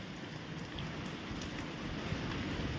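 Summer rain falls in Okhamandal, Dwarka, as a steady, even hiss of downpour that continues unbroken throughout, with no voices present.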